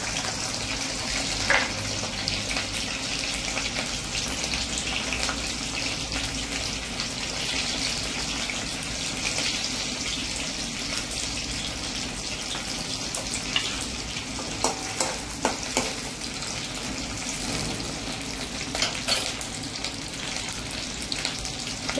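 Green chilies sizzle and crackle in hot oil in a kitchen, a steady bright frying hiss with small pops throughout and no talking.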